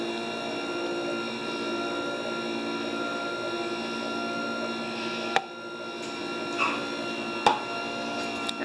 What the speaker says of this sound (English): So my machine right now is extruding lasagna noodles